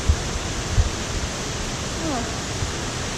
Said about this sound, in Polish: Autentyczny subtropik, po prostu nagle się rozpadało bardzo intensywnie.